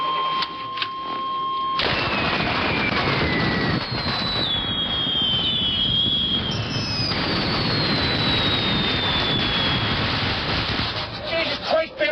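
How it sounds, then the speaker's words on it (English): Loud, continuous crackling and booming bursts fill the scene, like fireworks going off nearby, with whistling streaks rising and falling overhead. "And then the fireworks go off."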